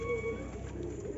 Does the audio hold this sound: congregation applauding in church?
no